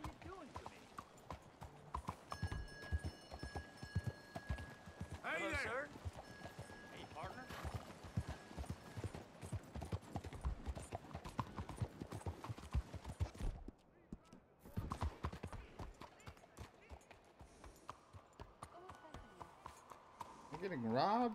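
Horse hooves clip-clop in a steady rhythm in the video game Red Dead Redemption 2, with people talking over them and a brief whinny.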